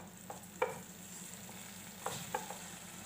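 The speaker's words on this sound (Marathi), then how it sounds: "आता दोडका त्याच्यामध्ये सोडते मी। हे चांगलं परतून द्यायचं।" Ridge gourd (dodka) stir-fried in a pan gives a soft, steady sizzle with a few light scraping stirs and clicks, quiet and close, with no talking.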